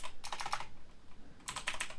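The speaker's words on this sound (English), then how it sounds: "All you have to do to add them is type in their email address." Quick keystrokes on a computer keyboard while entering an email address, two short bursts of rapid clicking separated by a pause, close and clear with no talking.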